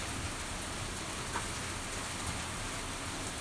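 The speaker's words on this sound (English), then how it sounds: "it's raining out here" Steady rain falls outside a screen porch, making a dense, even hiss of drops with no pauses and no voices, fairly soft and constant throughout.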